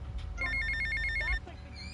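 A phone ringing in the game GTA Vice City, a rapid trilling electronic ring repeating for about a second, quiet and close with speech around it.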